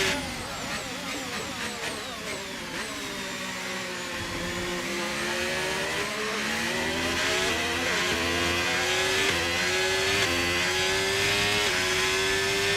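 A Ferrari F1 car in the video game F1 25 accelerates hard with a loud, close, high-pitched engine whine that climbs steadily through gear changes, with no talk.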